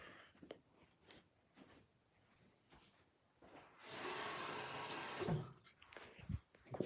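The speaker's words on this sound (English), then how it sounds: "Probably want to like put some water on it." Water is applied to a wooden table, a few seconds of running, splashing wash in the middle of the clip, surrounded by scattered handling knocks and rubbing, with no speech.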